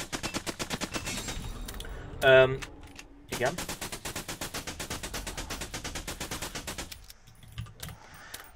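Shots ring out from a stronger weapon in the pre-alpha shooter game Until Last Breath, a rapid, even train of gunfire bursts throughout, with a brief metallic jingle and a short spoken word in between.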